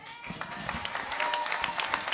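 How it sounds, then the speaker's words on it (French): Applause from a concert audience greeting soloists of the Chevatim, a steady dense patter of many hands with occasional louder claps and some crowd voices mixed in. "Tiens, on va les applaudir avant même."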